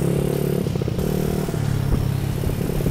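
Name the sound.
automatic scooter motorcycle riding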